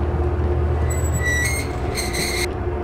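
A subway train in the horror video game Cry of Fear rumbles steadily and loudly throughout, with high metallic squealing tones rising in the middle, close and continuous with no talking.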